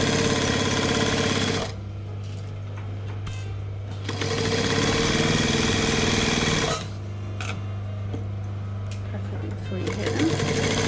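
Loud whirring runs of a sewing machine stitching fabric for a crayon roll, with pauses and restarts, and someone talking over and between the stitching.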